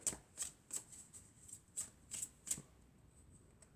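Oracle cards being shuffled: a run of about seven crisp, papery riffle bursts spaced roughly every third of a second, close and fairly quiet, with no voices.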